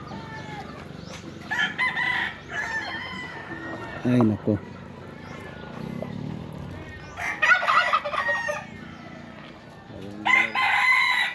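A rooster crows several times nearby, with hens clucking around it and people talking briefly in between.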